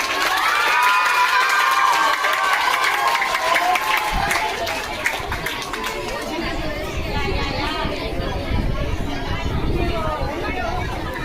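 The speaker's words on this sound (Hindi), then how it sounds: "जोरदार तालियां।" A crowd at a school annual function cheers for an award. Excited children shout over busy chatter, with some scattered clapping, loud and continuous throughout.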